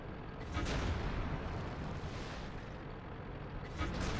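Tank cannon fire and impact in World of Tanks involving the VK2801, a loud sustained rumbling blast with dense crackling low end and a second burst near the end, with no talking.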